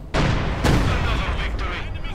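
Battlefield blast from Company of Heroes 2 as a German Grenadier squad is blown apart, a loud booming explosion with a second heavy impact and dense rumbling combat noise carrying through the whole stretch.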